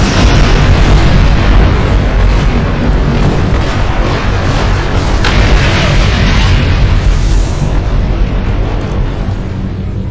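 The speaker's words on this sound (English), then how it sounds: "That was quite an explosion. Probably from the Thalaron weapons carried aboard the ship." A starship blows up in a Star Trek video game, carrying Thalaron weapons, producing a loud, sustained rumbling explosion that roars continuously for several seconds and slowly thins out.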